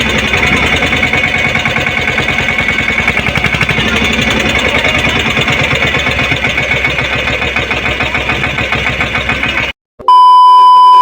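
A loud, steady engine rumbles and clatters continuously up close, then cuts off abruptly near the end, followed by a brief electronic beep.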